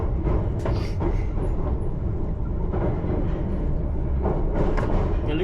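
A London Underground Piccadilly Line tube train rolling into Wood Green sidings during engineering works, a continuous heavy low rumble with faint rail clatter, steady and close throughout.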